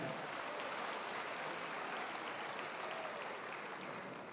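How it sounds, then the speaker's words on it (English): A crowd at a Lagos APC political rally applauds with a dense, steady wash of clapping that holds evenly for several seconds, heard from a distance at moderate volume and fading slightly at the end. "please help me give a big round of applause, a very big one, to the state chairman and the executive of the state"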